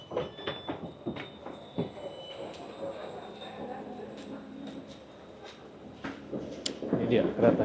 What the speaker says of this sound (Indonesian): Ini dia keretanya.